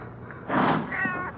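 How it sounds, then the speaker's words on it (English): A cat meows in an old radio drama scene, apparently outside in a side alley by the street, giving one drawn-out, fairly loud meow after a quiet stretch and then a fainter, higher cry. "might be it's just a cat out in the street, out in the side alley, maybe"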